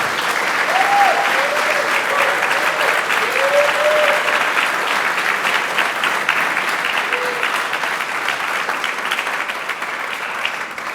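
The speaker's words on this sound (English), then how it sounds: "let's have another big round of applause for Luke and Nate" An audience at a God of War environment art presentation applauds in a dense, sustained burst that fades slightly toward the end, with a few brief voices and whistles rising over the clapping.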